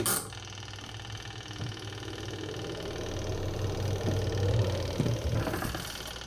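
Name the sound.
Panasonic NA-W76BBZ2 washing machine spin-dryer motor running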